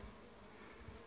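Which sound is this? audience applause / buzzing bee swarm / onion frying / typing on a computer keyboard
buzzing bee swarm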